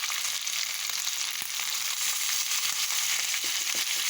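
Pointed gourd (potol) frying with green chillies, salt and turmeric in a pan, a steady dense sizzle that holds loud and even throughout with a few faint stirring ticks and no talk.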